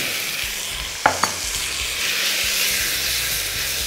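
Lamb pieces and onions sizzle in a pan, a steady loud hiss and crackle close up, with a couple of sharp clicks from stirring early on.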